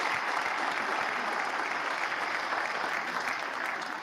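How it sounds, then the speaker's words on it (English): Sustained applause fills the US House of Representatives chamber during the Speaker election, a dense and steady wash of many hands clapping at even loudness throughout. "That's an applause line."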